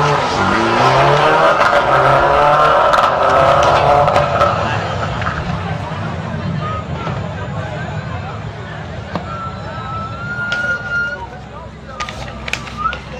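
A Renault Clio rally car on a night stage with its headlights out roars close and loud, the engine revving hard, then fades into the distance. Commentators talk over it throughout.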